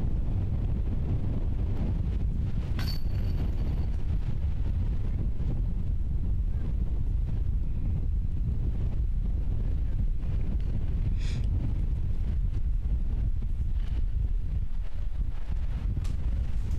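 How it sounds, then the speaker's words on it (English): Steady wind buffets the microphone on a golf course during a women's disc-style pro tournament round, a continuous low roar with no breaks and faint background sounds. "Wind just making it tough for us out here."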